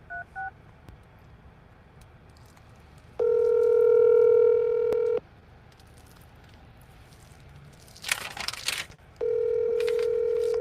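Telephone dialing with brief keypad tones at the start, then two long steady ringback or dial tones separated by a short burst of rustling noise, loud and close with no talking.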